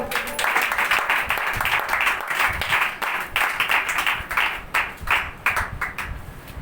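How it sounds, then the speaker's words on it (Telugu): A church congregation clapping loudly together during a sermon, steady rhythmic hand claps filling the room throughout, close and alone without talk. "గట్టిగా చప్పట్లు కొట్టండి."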